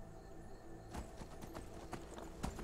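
Rhythmic hoofbeats of a horse in the video game Skyrim clip-clop at a steady gallop, moderately quiet, over a faint continuous background tone.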